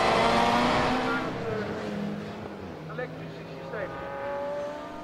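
Supercar Challenge race cars battle for the lead at Zandvoort, their engines whining loud then fading into the distance under continuous excited race commentary.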